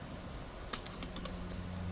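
A few computer keyboard keys pressed in quick succession, Shift plus Enter, while working in a Mathematica notebook; light, close clicks clustered near the middle over a steady background hum.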